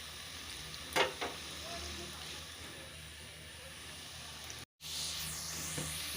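Potato French fries bubble and fry in hot oil, a steady close sizzling hiss with a brief stir near the start and a momentary cut to silence before the frying resumes.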